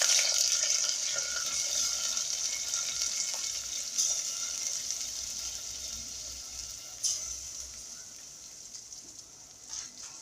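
Food tipped into a pot of hot oil while cooking Alexandrian koshari, giving a loud, steady hiss and sizzle that slowly fades over ten seconds, with a few brief bursts of crackling along the way.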